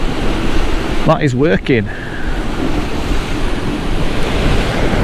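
Fast-flowing sea water and surf rush and roar loudly throughout, with wind buffeting the microphone, while someone speaks briefly near the start.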